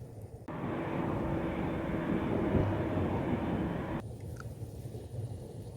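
Steady broadband roar of a cartoon airplane flying past, loud and continuous for about three and a half seconds before cutting off abruptly, with no talking.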